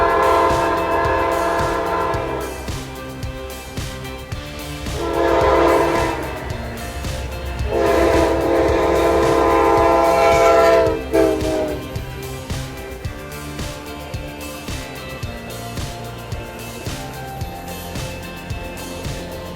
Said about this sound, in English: we'd end up at a crossing just in time to catch northbound Amtrak 20, which had another heritage unit with it